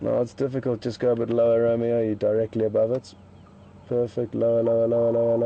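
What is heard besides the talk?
No everyday noises stand out.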